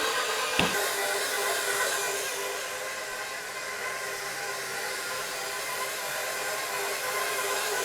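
A stand mixer kneads sweet bun dough on a low speed 2 setting, giving a steady, fairly loud motor whir with a soft hiss that runs continuously, and a single brief knock near the start.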